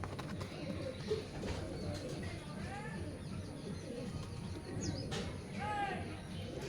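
Pigeons cooing close by, a few soft rolling coos in short bursts over a low background hum, while someone talks throughout.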